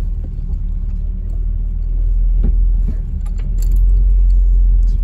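A first-generation Toyota 4Runner crawls along a narrow off-road trail at night, a close, loud low engine rumble with rattling and jangling from the cabin and occasional knocks as it bounces over terrain.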